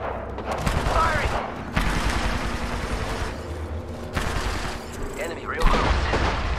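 An R99 submachine gun fires in Apex Legends, with rapid bursts of gunfire separated by short pauses and layered with game sound effects and chatter.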